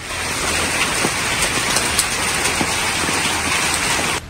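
Heavy storm rain pours down steadily in a broad, continuous hiss with scattered patters and drips, loud and close throughout with no pauses.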